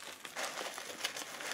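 Close, continuous rustling and crinkling of crepe packing paper as a parcel is unboxed, soft and papery with small irregular swells.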